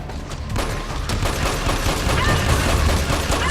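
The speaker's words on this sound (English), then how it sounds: "it has very high rate of fire, so you can just keep bashing shoot button" Rapid automatic gunfire in Metal Gear Solid 4 from a high rate-of-fire gun, a loud continuous burst of shots with no pauses.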